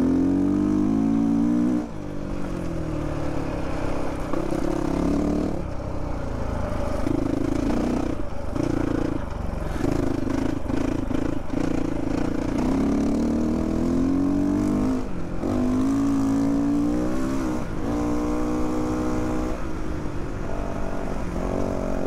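A 2022 GPX Moto FSE450R motorcycle ridden on an ATV trail, its engine revving up and down in repeated loud bursts close by, the pitch climbing and falling with each throttle change.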